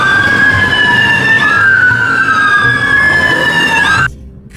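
Toy ambulance siren wailing steadily and loudly with a sliding two-tone pitch, cutting off abruptly near the end.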